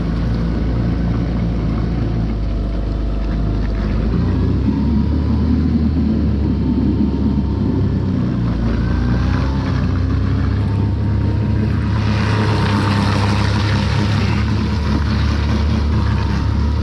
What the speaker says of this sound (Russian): Не будем мучить мотор.